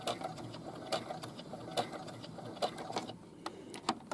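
A sewing machine stitches a fabric casing slowly, giving a steady series of light mechanical clicks roughly once per second over a soft motor whir.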